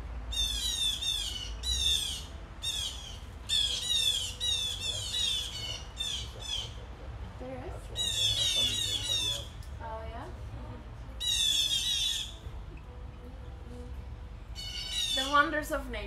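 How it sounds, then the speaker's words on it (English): Birds squawk outdoors near a porch in repeated loud, harsh bursts of rapid calls, separated by short pauses, over a quiet background with faint ambient sound. "Birds have a lot to say today."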